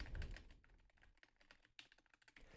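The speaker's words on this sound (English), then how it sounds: "I'm typing on a keyboard right now." Steady rapid clicking of fingers typing on a computer keyboard, close but faint, with irregular rhythm of keystrokes and a few sharper key hits, captured through a wireless gaming headset microphone.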